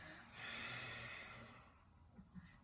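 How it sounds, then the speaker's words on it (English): Nasal breathing with the lips closed during a yoga breathing exercise, a long snore-like rushing exhale followed by a few short, softer sniffing breaths, close and alone. "now try to do it with your lips closed, only through your nose"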